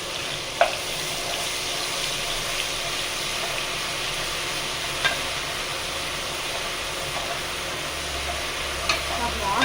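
Garlic frying on a high flame for homemade vadi biryani, a soft, even sizzle at a distance, broken by a few sharp clinks of a spoon against the pan.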